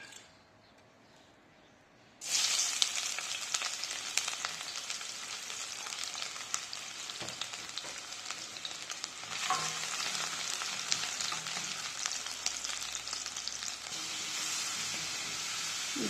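Onions dropped into hot mustard oil burst into a loud, steady sizzle that carries on after a quiet start, with occasional stirring scrapes in the pan for a mutton curry.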